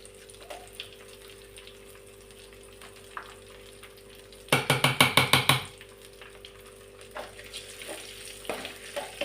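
Cumin seeds and coarsely crushed garlic hit hot oil in a pan for a red chilli tomato pickle, a faint background sizzle broken by a loud burst of rapid crackling and spluttering lasting about a second, then settling back to a soft hiss.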